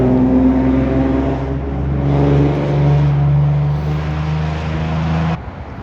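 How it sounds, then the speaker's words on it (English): Loud cars pass by outdoors, giving a continuous rumbling engine drone with shifting pitch that swells and fades for several seconds before dropping off near the end. "You got these loud-ass cars out here, man."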